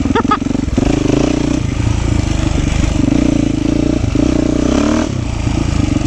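A 2024 Beta 390 Race Edition motorcycle engine runs loud and close with a chuggy, clattering throb, holding steady with slight rises and dips in revs for several seconds and no talking.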